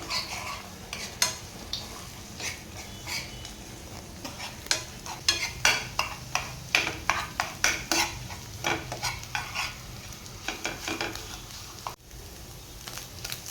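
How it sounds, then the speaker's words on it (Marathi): A spoon stirring egg with black pepper and salt in a bowl, clinking and tapping in a quick irregular rhythm of close, crisp strokes, with no voices. "काळी मिरी आणि मीठ घालून झाल्यानंतर आहे ना ते अंडे असं चमच्याने असं मिक्स करून घ्यायचं आहे"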